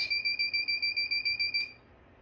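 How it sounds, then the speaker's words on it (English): Radionics D4112 security system keypad emitting a rapid, regular series of about a dozen high electronic beeps, loud and close, before stopping. "We can see that it's beeping and tell us to enter our code to disarm it."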